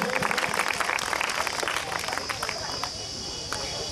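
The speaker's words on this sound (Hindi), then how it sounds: "इन संस्था के कार्यकारिणी के सदस्यों के लिए मैं चाहूंगा एक बार जोरदार ताली बजे।" An audience claps at a theatre festival, a dense burst of applause that is loudest at the start and gradually thins and fades toward the end.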